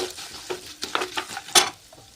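Sesame seeds and asafoetida hit hot tempering oil for puliyogare, giving scattered close crackles and spits of sizzling with a louder burst near the end, no talk.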